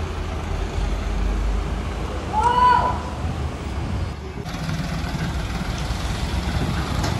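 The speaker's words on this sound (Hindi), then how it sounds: "और ये चला हमारा ट्रैक्टर सेट" A tractor engine runs on a dairy farm near Surat, Gujarat, giving a steady, close low rumble throughout, with a brief higher whine partway through.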